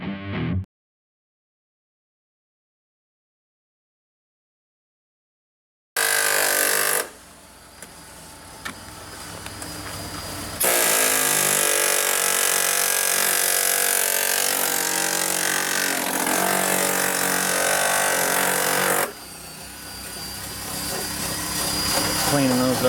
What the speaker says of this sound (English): Air chisel. Jeremy's hard at work getting the rest of the rockers off.